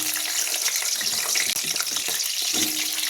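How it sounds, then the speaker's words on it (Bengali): Potatoes for biryani fry in hot oil, producing a steady, close hiss and crackle with a few sharper pops, continuous and without talk. "এবারে এই তেলের মধ্যে বিরিয়ানির আলুগুলো আমি ভেজে নেব"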